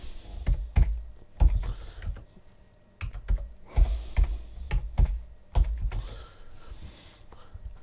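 A password is typed on a computer keyboard in an irregular run of close, crisp key clicks with short pauses between bursts, with no talking.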